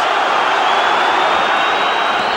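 Boxing arena crowd cheering for Manfredo during a bout against Calzaghe, a dense, steady roar of many voices filling the space, loud and unbroken.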